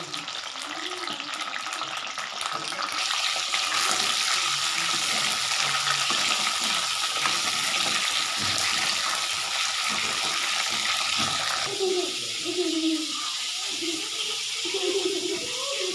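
Brinjal frying in hot oil, a steady close sizzle and bubbling that runs throughout, with a voice speaking over it near the end.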